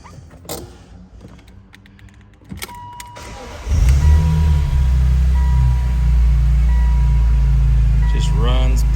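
A 2001 BMW M Roadster with the S54 engine and its hood open cranks and fires up, then settles into a loud, steady, close idle after some clicks and rustles, with a voice heard briefly.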